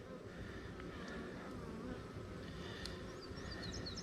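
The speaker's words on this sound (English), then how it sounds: "There's a lot of bees in that one." Dense, steady buzzing of many honey bees in a hive, a continuous droning hum up close with a few higher whines drifting over it.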